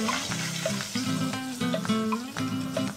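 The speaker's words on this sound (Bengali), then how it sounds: "এবার পেঁয়াজগুলোকে হালকা একটু ভেজে নেব" Onions frying lightly in a kadai after shrimp were fried in it, a soft steady sizzle close by with repeated scraping stirs and light clinks over it.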